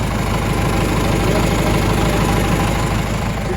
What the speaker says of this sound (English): It's an 83 horsepower 4-cylinder diesel.